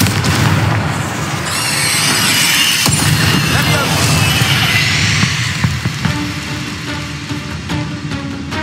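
Confringo blasting curse explosions in Hogwarts Legacy, loud booming blasts with crackling debris and whooshing bursts layered over game music, one heavy impact followed by rumbling and scattered pops.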